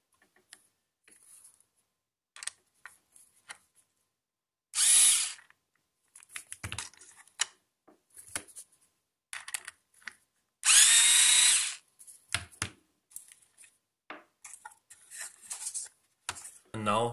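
A power driver spins Torx 15 screws out of an Audi TT Mk2 phone cradle in two loud bursts of a few seconds each, with softer clicks and handling taps scattered between them.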